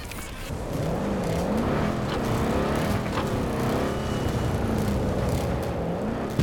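A car engine drones steadily while driving around in a video game, its pitch wavering up and down as it rises and falls with the throttle, loud and continuous throughout with no talk.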